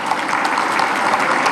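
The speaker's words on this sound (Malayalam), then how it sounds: "അതിന് നല്ല കയ്യടി നിങ്ങൾ തന്നേ മതിയാവും" A crowd claps together in a short, dense burst of applause at a public political gathering, steady and loud for under two seconds.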